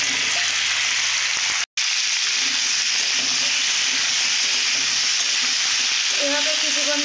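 Pumpkin and other vegetables fry in a pan with a loud, steady sizzle that runs throughout, broken by one brief cutout and a few stirring scrapes.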